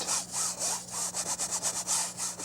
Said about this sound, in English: I'm just literally scrubbing it in.